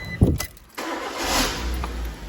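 A Suzuki Swift, just repaired after a no-crank, no-start fault, cranks briefly with a sharp burst, then catches and settles into a steady close idle.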